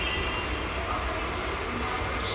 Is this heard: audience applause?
no